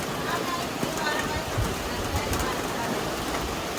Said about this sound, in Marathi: खूप जोरात आलाय पाऊस